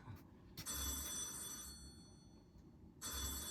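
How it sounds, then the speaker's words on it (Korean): A telephone rings on stage during a one-act amateur university ghost play, with a faint, bright electronic bell in bursts under a low, noisy room hum, and a thud and shuffling in between. "어쨌든 전화 소리군요."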